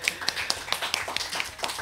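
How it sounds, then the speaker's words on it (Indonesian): Scattered clapping for Elisa in an Indonesian podcast studio, a few pairs of hands patting out quick uneven claps for under two seconds, close and fairly light with no talk over it. "tepuk tangan buat Elisa"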